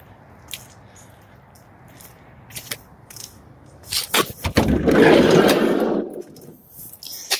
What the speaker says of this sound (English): Go around here and demonstrate the folding seat.